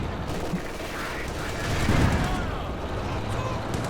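Tank gunfire and battle noise in the video game Company of Heroes 2, a dense rumbling barrage of shots and blasts with a heavier boom midway, continuous throughout.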